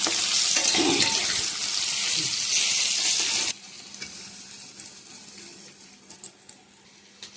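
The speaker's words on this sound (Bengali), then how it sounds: "আর এ পাশে আমার কাঁকরোল ভাজা হয়ে এসছে" Spiny gourd (kakrol) frying in a pan gives a loud close sizzle for about three and a half seconds, then it cuts off abruptly, leaving a quiet room with faint scattered clicks and taps.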